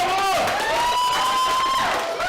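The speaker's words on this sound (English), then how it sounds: "you see the group clapping, cheering him on, and congratulating him for completing the challenge" A group at a gym cheers a friend on after he completes the Barbarian challenge, loud sustained voices rising and falling under nearby talk.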